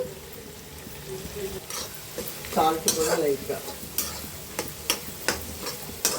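Four onions frying in a pan for a poppy seed curry, a steady sizzle broken by stirring scrapes and utensil clicks in a loose rhythm, close and moderately loud.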